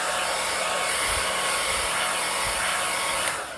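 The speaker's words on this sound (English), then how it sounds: "you can take your hairdryer" A hair dryer warming a beeswax sheet blows steadily at close range with a continuous whooshing hum, cutting off near the end.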